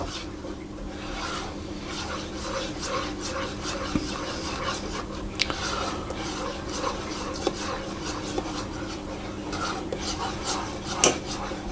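Baking soda being stirred into ginger snap biscuit dough in a pot, utensil scraping and clinking against the metal steadily with sharper knocks now and then.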